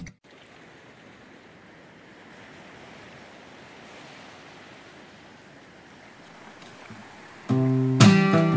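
Ocean waves breaking on a beach, a soft, steady wash of surf heard from a distance with light wind, ending in a sudden loud burst of noise.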